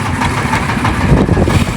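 A fishing trawler's engine on a river during hilsa fishing, a loud, steady low droning rumble close by, with no talk over it.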